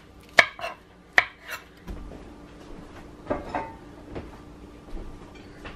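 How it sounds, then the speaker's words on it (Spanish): A knife chops squash blossoms on a cutting board, with a few sharp, distinct knocks followed by softer, irregular cuts and clatter. "vamos a picar las florecitas de calabaza"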